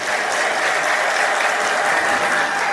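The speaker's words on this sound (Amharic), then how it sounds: "እስቲ አጨብጭቡላቸው" Wedding guests at a traditional wedding clap for the newly married couple, a dense, steady crowd applause close by and sustained throughout without a break.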